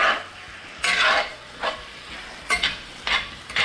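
Maque choux with shrimp is stirred in a sizzling pan, with a steady frying hiss under several distinct spoon scrapes and clinks, close up and without talk.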